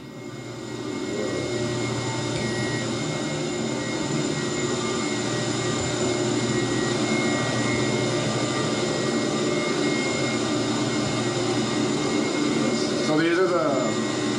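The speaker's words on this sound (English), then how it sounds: "these are the blowers that provide the air for the aeration system" Wastewater treatment plant aeration blowers run as a loud, steady industrial roar with a constant low hum and broadband rush, filling the space continuously from near by.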